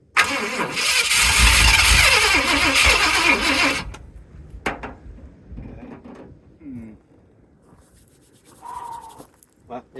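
Engine with its timing off cranks and fires, roaring loudly and roughly for a few seconds before cutting out, followed by quieter clunks and shuffling with someone speaking briefly nearby.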